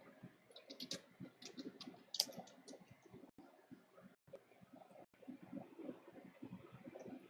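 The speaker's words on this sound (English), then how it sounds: "Okay, I'll just type it." Faint, quick clicking of a computer keyboard being typed on, in irregular bursts of keystrokes at a low level in a quiet room.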